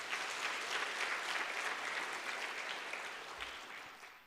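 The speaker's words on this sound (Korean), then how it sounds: "주님께 영광의 박수 올려드리겠습니다" A church congregation at a Sunday afternoon worship service breaks into steady, dense applause, many hands clapping together at an even level before easing off slightly near the end.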